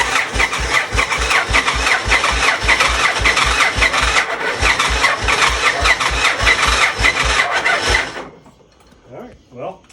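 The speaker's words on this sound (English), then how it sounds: "Let's try one more time. I'll give it some throttle and hold the clutch in." A 1999 Victory V92C motorcycle that had sat unmoved for 13 years cranks and fires with the throttle held open, then runs loud and close in a rapid, uneven throb before cutting off, with faint talk after.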